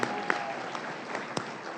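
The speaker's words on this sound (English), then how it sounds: "That's a lifetime's worth of applause." At a CFO awards ceremony, the audience keeps up soft, sustained applause for a lifetime achievement honoree, a distant even patter of many hands with a few sharper claps standing out.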